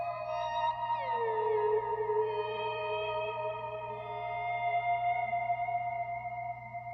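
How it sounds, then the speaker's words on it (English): Guitar swells run through a pedalboard with the pitch-shift knob set so the swells play one octave higher, giving sustained layered tones with a gliding pitch drop early on, then a steady, washy, reverb-laden drone throughout without talk. "when we put it at the left, it's going to play our swells 1 octave higher"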